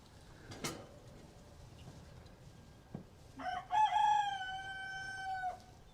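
A silver laced Wyandotte rooster crows once, loud and close, inside a chicken coop, a long drawn-out call after a few faint clucks and rustles.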